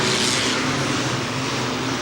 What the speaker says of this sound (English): The green flag is down. There's 15 laps to come, and just about anything goes as we go with the banger race.